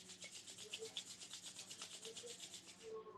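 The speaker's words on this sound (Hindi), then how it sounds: "दोनों हाथों को एक दूसरे के अगेंस्ट रब करें अच्छे से।" Both palms rub briskly together, making a soft, rhythmic swishing friction. The strokes repeat evenly for about three seconds, quiet and close, with no talking over them.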